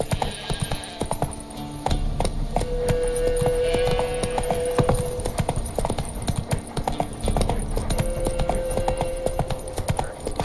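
In The Witcher 3: Wild Hunt, the horse Roach trots along with steady, close clip-clopping hooves, a brisk continuous rhythm of hard strikes over a faint background hum, with no talk during the gait.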